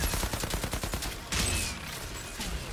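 Rapid bursts of video-game gunfire from the shooter Outriders, a fast train of sharp cracks in the first second and a half, then a brief blast and denser shooting continuing to the end, loud and with no talking.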